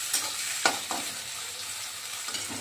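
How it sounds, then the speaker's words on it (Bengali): Onions browning in oil ahead of a loitta fish curry: a constant soft frying hiss broken by a few distinct spatula scrapes against the pan, near and steady with no speech. "তো পেঁয়াজটা লাল লাল হচ্ছে"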